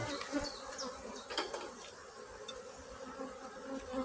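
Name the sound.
agitated honey bee colony buzzing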